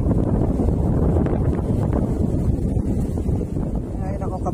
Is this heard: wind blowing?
yes